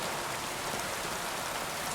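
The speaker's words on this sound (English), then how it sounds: "Not a huge fan of the rain" Steady, dense rain pours in Kingdom Come Deliverance 2, a constant even hiss of falling water all around with no pauses and no voices.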